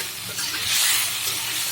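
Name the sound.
bottle gourd being sautéed and stirred in a pan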